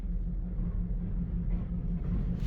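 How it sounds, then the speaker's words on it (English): A deep, steady rumble with a low mechanical drone rolls on throughout, loud and close, like heavy rolling machinery moving past. "stand by while the train goes by because it's pretty darn noisy"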